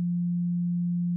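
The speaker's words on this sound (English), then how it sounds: "one of these, a sine wave" A pure sine wave tone holds one low, steady pitch for about a second, loud and unwavering, starting and stopping abruptly.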